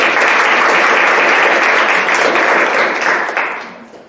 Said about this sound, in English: So if you give them a round of applause and welcome them.